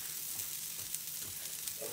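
Shiitake mushrooms and tomatoes cook in a pan for an egg white omelette, giving a soft, even sizzle with faint crackles and no speech.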